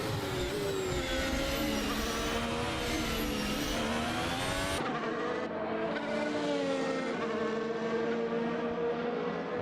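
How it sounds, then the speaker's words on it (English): Race car engines in a Japan Grand Prix racing video game at the Teleios Dome, a loud continuous whine of several cars with rising and falling pitch, shifting abruptly midway as the engine sound cuts back in, no talk. "I'm going to try and get the engine sound back"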